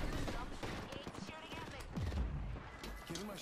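Rapid video-game gunfire in a team shooter match crackles in dense bursts across the whole stretch, mixed with game effects and a voice talking over it.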